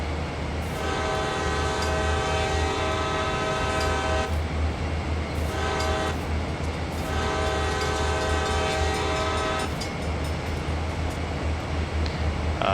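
Train horn blaring at a crossing on the Sand Patch Grade in Train Sim World, sounded in several long blasts over a steady locomotive rumble.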